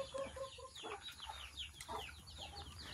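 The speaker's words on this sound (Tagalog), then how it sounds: "May manok kasi ako dito mga kababayan." Chickens cluck and call repeatedly on a Filipino home yard, a rooster among them, their short bursts close and overlapping above a steady low rural background hum.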